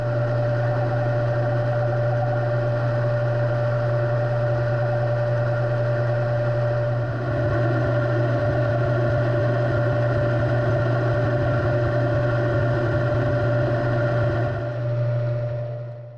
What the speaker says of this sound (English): So let's head to the lathe, and we're going to turn this thing .6385.